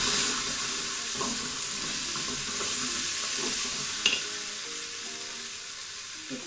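Bacon lardons sizzling in a Cookeo multicooker, a steady soft frying hiss with occasional light scrapes and clicks of stirring and one sharper knock, no voices.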